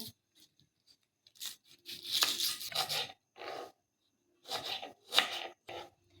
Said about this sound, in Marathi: मस्तपैकी आता आपण 3 कांदे उभे चिरून घेऊया।